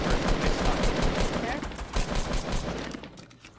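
Gunfire in the video game Fortnite, with rapid, dense bursts of shots packed closely together, loud and continuous for a few seconds before fading slightly at the end.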